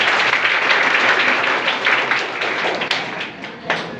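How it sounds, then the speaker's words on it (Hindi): A group claps steadily and densely at a mark sheet distribution ceremony, a close, continuous patter of hands with a few sharper individual claps near the end. "ताली बजा दे भैया।"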